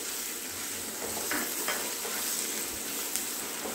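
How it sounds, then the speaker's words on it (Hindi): Finely chopped onions fry with cumin in a pan, a steady moderate sizzle and hiss close by with a few soft stirring scrapes and a small clink near the end. "देखिए हल्की हल्की हमारी प्याज भुनने लगी है।"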